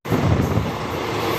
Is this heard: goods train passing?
yes